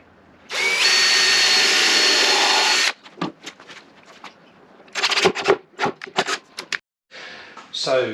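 A power drill drives screws through the top into a wooden workbench in a workshop or shed: one long steady whir of about two and a half seconds, then a series of short bursts and knocks, loud and close.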